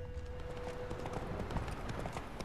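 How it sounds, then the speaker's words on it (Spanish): A horse galloping at full speed in The Witcher 3 game, with steady rapid hoofbeats running continuously and fairly loud throughout the short stretch. "el caballo va a tope"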